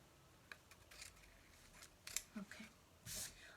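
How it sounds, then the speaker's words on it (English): Scissors cut paper for an envelope junk journal with a few quiet, close snips and rustles scattered across a few seconds, faint against a soft background. "So let me use my scissors to kind of give it a better look."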